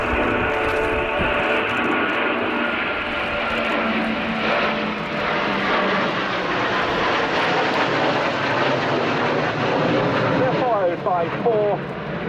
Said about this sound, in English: Eurofighter Typhoons from RAF Lossiemouth, led by Wing Commander Jim Lee